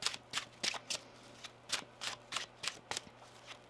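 A deck of tarot cards being shuffled by hand, about a dozen quick papery riffles and snaps in an uneven rhythm, close and fairly quiet, with no talk.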